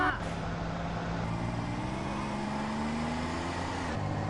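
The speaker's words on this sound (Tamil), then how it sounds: "வண்டி பார்த்தீங்கன்னா சரியான ஸ்கிட் ஆகுது கேஸ்" A car engine droning steadily in GTA San Andreas, with a rising tone as it accelerates for a few seconds before cutting off abruptly; loud and continuous, no clear tire squeal.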